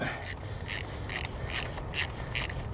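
A ratchet with a spark plug socket loosens a spark plug on an Infiniti G35, giving close, loud bursts of rapid clicking repeated about six times with short pauses, no talking.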